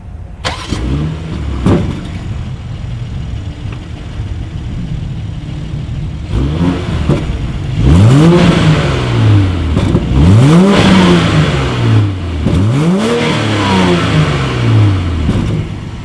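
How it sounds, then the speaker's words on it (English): A 2019 BMW X7 with dual exhaust outlets starts and idles. Several sharp throttle blips follow, each rising and falling quickly in pitch, loud and close from behind the vehicle, with a brief pause between revs and no talk. "As always, here is that exhaust clip."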